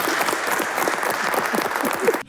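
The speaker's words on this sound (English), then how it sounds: "Can we stop clapping, please?" A group of people clapping continuously in a dense, close and loud burst of applause.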